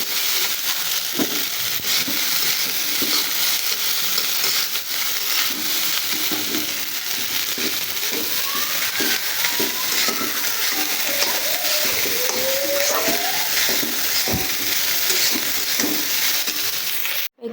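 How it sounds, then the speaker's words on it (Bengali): Loitta dried fish frying with turmeric and salt in a pan, giving a steady, dense sizzle throughout with a few stirring clatters and faint background sounds. "দিয়ে দিচ্ছি লবণ দিয়ে একটু ভেজে নেব"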